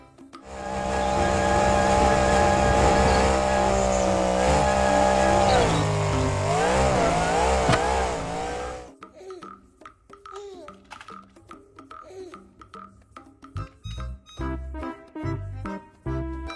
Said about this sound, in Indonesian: Mobil truk monster.